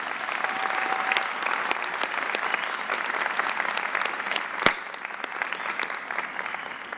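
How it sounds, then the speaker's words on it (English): Commencement audience at Macomb Community College applauds the student speakers, a sustained wash of many hands clapping in a large hall, with one sharp louder clap near the end as it thins out. "Please join me in giving them another round of applause."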